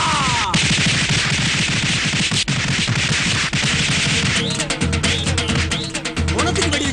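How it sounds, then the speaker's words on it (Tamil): Firecrackers set off at a funeral crackle in dense, rapid bursts of sharp pops, loud and close, with a short break midway; general commotion and shouting carry on beneath and after them. "பொணத்துக்கு வெடி வச்சிருக்காங்க"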